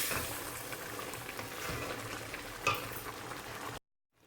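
Mutton karahi simmers and fries in a pan as the tomato water cooks off, a close, steady bubbling sizzle with a brief louder stir before it cuts to near silence.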